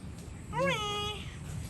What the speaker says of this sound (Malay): Ni kucing jiran ada yang belah kanan ni.